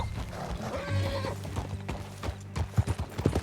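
Rhythmic horse hooves clip-clop at close range in the video game Red Dead Redemption 2, joined by a short whinny from the horse, with louder hoofbeats toward the end.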